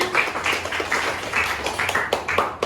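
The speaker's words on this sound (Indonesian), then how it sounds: "Tepuk tangan untuk Gina." Students clap for a girl named Gina in a classroom, a short burst of loud, close group clapping that carries on steadily without talk.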